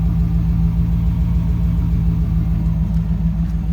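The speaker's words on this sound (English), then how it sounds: "I just can't seem to get this Flowmaster sound. It sounds just amazing." A 1995 Chevrolet Camaro Z28 V8 with Flowmaster exhaust idles close by with a deep, throaty exhaust burble, a steady loping rumble that pulses rhythmically throughout.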